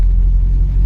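A Maruti Zen car engine idles with a steady low rumble, close and fairly loud, without variation over the short stretch.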